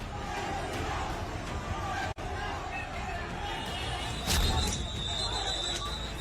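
An angry crowd armed with sticks fills a street during a riot in Dhaka, a dense roar of shouting voices and scuffling. Louder cries and clatter swell near the end.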